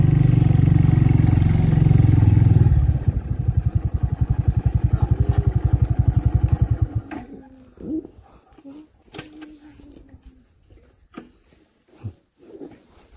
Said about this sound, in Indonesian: Motornya itu buat naik sampai kawasan Merbabu itu ngos-ngosan teman-teman.